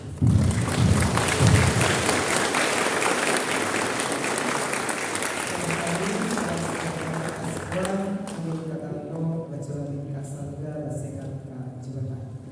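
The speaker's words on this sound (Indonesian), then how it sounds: "Sekali lagi kita beri tepuk tangan yang meriah" Loud, sustained applause from a crowd at the opening of a Catholic scripture seminar in Pontianak rolls on for several seconds, then fades as a speaker's voice takes over.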